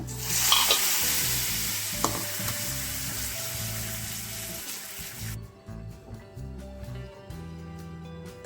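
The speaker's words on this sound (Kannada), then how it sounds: "ಅದಕ್ಕೆ ಒಗ್ಗರಣೆ ಹಾಕ್ಕೊಳ್ಳೋಣ" Loud, bright sizzling bursts up as spices hit hot oil for tempering rasam, then drops off sharply midway to a quieter crackling with stirring sounds.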